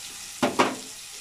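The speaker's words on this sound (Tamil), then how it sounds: "இதுவும் நல்லா வதங்கிட்டு வந்து வெங்காயம் தக்காளி வதங்கிருச்சு." Onions and tomatoes sautéing in a pan, with two quick spatula stirs scraping through a soft background sizzle, close and short.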